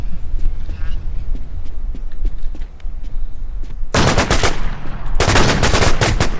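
Semi-automatic gun firing in the video game War Inc, heard as dense bursts of loud shots in two stretches after a quieter opening with scattered clicks and noise.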